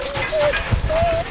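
Dogs whimper with thin, high, wavering whines rising and falling in short drawn-out bursts, close by, with some faint rustling beneath.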